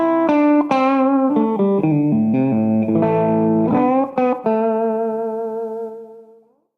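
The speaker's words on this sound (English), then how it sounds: "The virtual sound of these Fender amps is beautiful. Take a listen to this deluxe reverb." Electric guitar through a virtual Fender Deluxe Reverb amp simulation on IK Multimedia Amplitude with iRig, a short clean melodic phrase of sustained plucked notes ending on a long ringing note that fades out.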